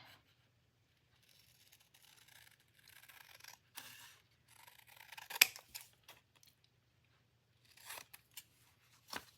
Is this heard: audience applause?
no